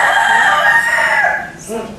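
A rooster crows loudly nearby, one long drawn-out call, trailing off into faint clucking at the end.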